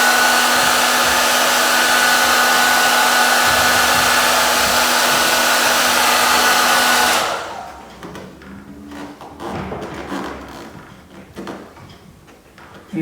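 Heat gun blowing steadily to warm a KTM motorcycle graphic decal so it stretches around bends in the plastic; a loud, even airflow whine runs for about seven seconds, then cuts off, leaving quieter handling and tapping noises.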